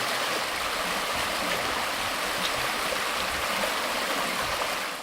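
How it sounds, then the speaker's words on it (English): Steady rushing of a mountain stream in Maine woods in autumn, water flowing continuously over rocks with a broad, even hiss and no voices. "Beautiful little mountain stream"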